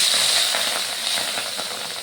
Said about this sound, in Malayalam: ഇനി നമ്മളുടെ ചെമ്മീൻ വറുത്തെടുക്കാം.